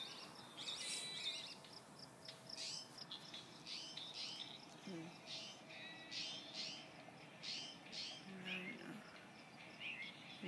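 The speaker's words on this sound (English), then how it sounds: "Birds already waking people up." At dawn, faint outdoor birdsong comes as scattered chirps and short calls over a soft, steady insect drone.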